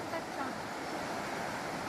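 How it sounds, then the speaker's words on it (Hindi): River water flowing steadily past deodar trees along a trekking path, a broad continuous rushing wash heard fairly close, with no clear talk over it. "वो खूबसूरत देवदार के वृक्षों के पीछे पानी बह रहा है।"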